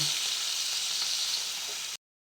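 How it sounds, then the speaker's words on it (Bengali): Hilsa fish pieces fry in hot oil with a steady, even sizzling hiss that runs for about two seconds and then cuts off abruptly. "দেখো ইলিশ মাছগুলো ভাজা হয়ে গেছে, এবার আমি তুলে নেব"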